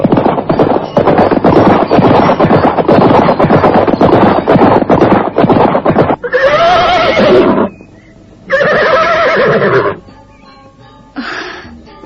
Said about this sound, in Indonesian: Nampak 2 ekor kuda berlari berkejaran membelah padang